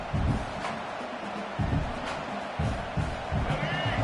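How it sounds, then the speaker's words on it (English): A college football video game crowd roars steadily in a playoff game, a broad wash of stadium noise with louder swells surging every second or so as the fans rally behind the defense. "this crowd coming to life here, trying to help the defense get a stop"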